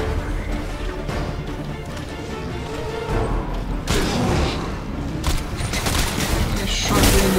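Gunfire in the video game Crysis 3: a dense, cluttered barrage of shots and crashing impacts over a steady combat din, with heavier bursts toward the end.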